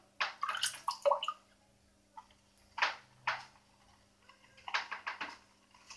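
Water is poured in small splashes into a container, several short bursts with pauses between them, fairly close and moderately quiet, with no talking.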